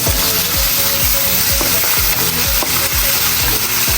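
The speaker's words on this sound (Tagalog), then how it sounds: "At syempre, yung ating chicken, medyo pababrown din natin." Chicken pieces browning in a hot frying pan for homemade goto, sizzling loudly and steadily with repeated clanks of a utensil stirring against the pan, and no talking.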